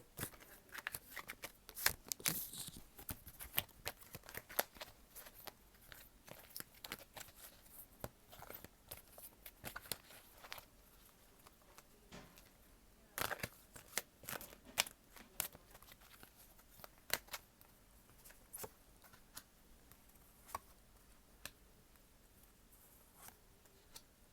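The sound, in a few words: shuffling oracle cards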